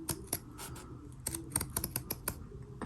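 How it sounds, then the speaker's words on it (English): Scissors snip excess fabric from a cross stitch bookmark in a run of small, crisp, irregular cuts, close and quiet. "I want to make sure I don't cut the sewing"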